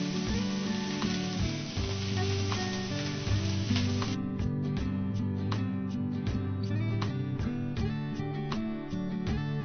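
Chopped peppers, onions, garlic and spicy peppers sizzle loudly in a pot as they caramelize for chili, with a constant dense frying hiss and occasional stirring clatter, and nobody talks.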